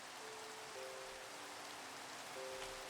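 Steady rain falling in Minecraft, a soft, even hiss of drops on surfaces throughout, faint and constant with thin tonal hums from the game's ambience.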